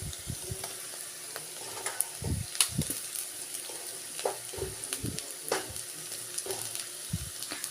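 Methi greens fry with tomatoes in a pan, a steady soft sizzle broken by scraping stirring strokes, close and fairly quiet, with no talk.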